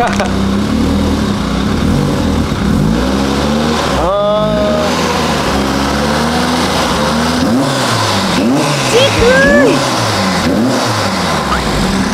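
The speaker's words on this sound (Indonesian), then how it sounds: "Ya suara 4 silinder tapi galak juga." Four-cylinder car engine revved in a garage, a loud rough idle rising in several sharp revs that climb and fall, with people talking over it.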